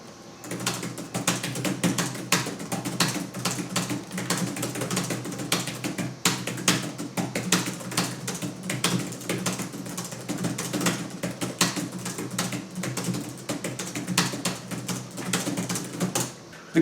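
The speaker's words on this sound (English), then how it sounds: "now we're going to test the keyboard" Typing on a thin, shallow-travel Samsung entertainment laptop keyboard from the early 2010s, a dense, steady run of rattly clicking keystrokes heard close and alone.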